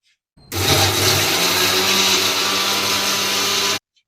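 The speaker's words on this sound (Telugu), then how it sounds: "సో మిక్సీ వేస్తాను ఫ్రెండ్స్ నేనైతే ఇప్పుడు" A kitchen mixer grinder runs in one loud, steady grinding burst of about three seconds while blending cooled chicken curry paste, starting and stopping abruptly.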